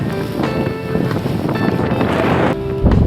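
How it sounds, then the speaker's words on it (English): Strong wind roars and buffets outdoors on a boat off the Florida coast in light rain, a loud, constant rushing with low rumbles from gusts hitting the microphone. "It's a little windy."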